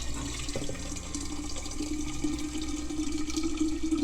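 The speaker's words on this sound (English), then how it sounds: "I'm not gonna fill it up all the way because I don't need to waste that water" Water filtered through a Berkey pours from the spigot into a container, a steady trickle whose pitch rises slowly as the container fills.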